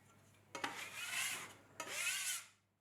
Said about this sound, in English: As for cleaning my workbench like so, lately I've been using this simple scraper